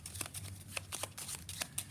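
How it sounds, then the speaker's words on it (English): A deck of playing cards, black cards for a multiplication game, is shuffled close up in a quick series of crisp riffling bursts, several short ripples in about two seconds. "Then I'm going to shuffle up my black cards"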